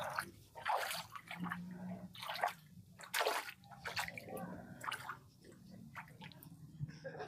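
Water poured and splashed while feet are washed outdoors in a remote rural village, heard as uneven bursts of splashing and trickling over continuous background noise, fairly close.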